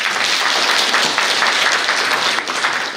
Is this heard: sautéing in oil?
no